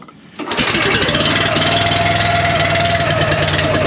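A small petrol engine on a roof-cleaning setup catches after a pull on its start cord, jumping from quiet into a loud, steady, close-up running drone that continues to the end.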